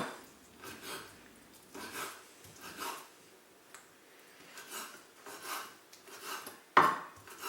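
Tomatoes being roughly chopped into little bits with a knife on a board, a series of soft irregular taps and scrapes, fairly quiet and close, ending with one sharper knock.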